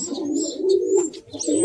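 A domestic pigeon coos steadily and close by in a low, rolling murmur, with faint chirps from other birds behind it.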